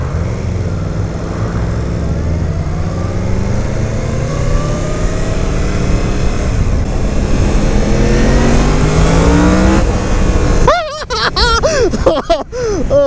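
A 2017 Yamaha FZ-10 motorcycle engine revs and pulls hard through rising gears on a ride, loud and close with strong wind rush, then drops off into choppy bursts near the end.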